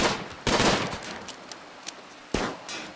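Gunfire in the colony-management game RimWorld: two sharp, loud shots about two seconds apart, each with a brief tail, and faint smaller pops between them.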